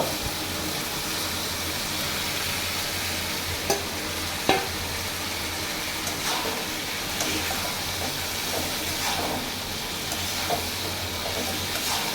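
Pointed gourd (potol) frying in a pan for a silver fish and potato curry, giving a steady, close sizzle with occasional sharp clinks as it is stirred.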